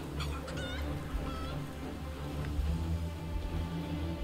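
A chicken in the video game Project Zomboid clucks in short bursts near the start, over a low, steady game background.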